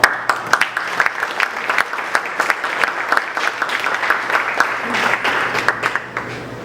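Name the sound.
audience applause for sponsors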